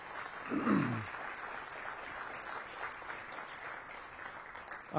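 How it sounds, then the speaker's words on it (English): An audience at a Washington, D.C. mayoral press event applauds with moderate, continuous clapping heard from a distance, and a brief voice comes through near the start. "So let's give them all a round of applause, please."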